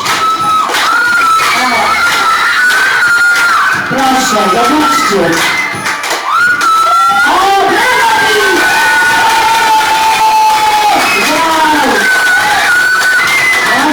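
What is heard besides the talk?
children cheering and squealing at kindergarten sports event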